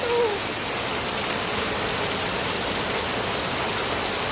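Morning rain falls in a steady, dense hiss that stays even throughout, with a brief faint tonal sound at the start and no talk.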